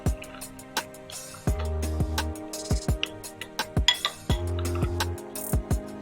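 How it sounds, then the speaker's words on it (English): A spoon clinks repeatedly against a bowl while sugar is stirred into yeast for wholemeal bread dough, sharp close metallic taps in an irregular rhythm with faint ringing between them. "take some of this, at least 1 teaspoon, and mix with the yeast and mix this one nicely"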